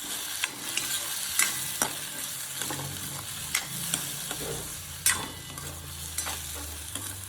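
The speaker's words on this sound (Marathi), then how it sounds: "चांगलं परतून घेतलं बटाटा" Potatoes sauté in a pan with a steady crackling sizzle, while a spatula scrapes and taps against the metal at irregular intervals as they are turned.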